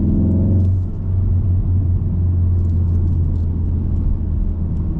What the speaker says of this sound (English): I'll do some exhaust sounds and stuff like that.